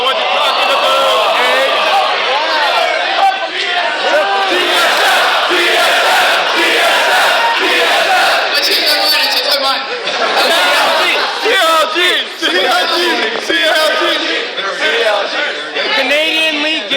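Large crowd at a Canadian League Gaming esports event in Vancouver cheering and yelling continuously, a loud dense roar of many voices with shouts rising and falling throughout.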